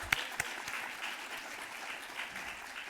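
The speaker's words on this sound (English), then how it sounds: "Let's give her a big round of applause." A conference crowd claps steadily at moderate volume, a dense patter of applause heard from a distance in a large room.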